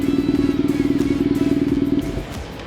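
BMW R nineT boxer-engine motorcycle idling close by in a fast, even pulsing throb that drops away near the end.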